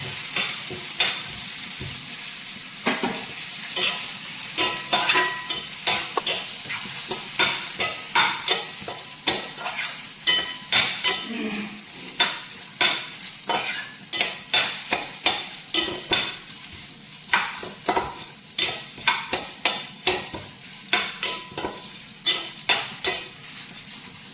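Dried chillies, cumin, fenugreek, coriander seeds and peppercorns are roasted in a pan for Konkani-style sambar, with steady sizzling and frequent rhythmic scraping of a spoon stirring the spices close up.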